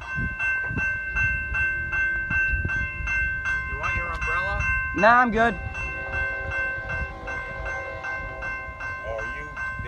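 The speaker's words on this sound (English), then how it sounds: "freight train." A CN intermodal freight train rolls past close by with a continuous rumble and rail clatter while its horn sounds in several blasts. People talk briefly underneath.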